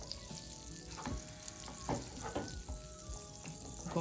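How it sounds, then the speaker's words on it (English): Butter melting in a saucepan on a stovetop, for brown butter, gives a steady soft sizzle and crackle with occasional light spoon taps and scrapes against the pan, fairly quiet and without talk. "So after placing your saucepan on your stove top, just melt the butter."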